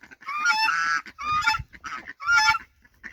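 African geese honking loudly nearby in several drawn-out, nasal bursts with short gaps between calls, on a ranch.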